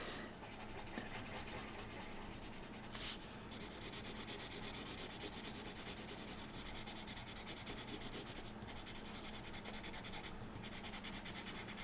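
A brown watercolor pencil rubs across a card in steady scratchy strokes, a close, continuous dry scraping with small pauses between passes, no voices.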